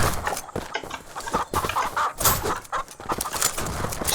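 Chicken clucking in the farm shooter game Shotgun Farmers, repeated clucks mixed into a loud, busy game soundtrack with dense effects and constant activity.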